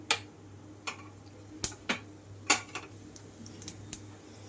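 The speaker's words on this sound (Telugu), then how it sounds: "తాలింపు గింజలన్నీ వేసుకుంటున్నాను" Tempering seeds in about two tablespoons of hot oil give sharp, scattered pops and crackles over a low steady hum.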